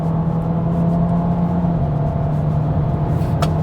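A Peugeot 408's engine under paddle-shifted downshifts through its 8-speed automatic, heard from inside the cabin as a steady, loud drone whose pitch steps down partway through, with no talk.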